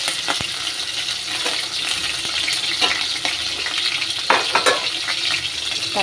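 Green chillies sizzle and crackle in hot oil with mustard seeds, a loud, close, continuous frying hiss with scattered pops and stirring clatter.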